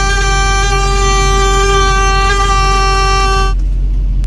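A loud, steady vehicle horn blares for about three and a half seconds, then cuts off abruptly, heard while driving along a small road.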